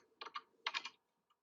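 A name typed on a computer keyboard: two short clusters of rapid, close key clicks, then a faint single tap after a pause.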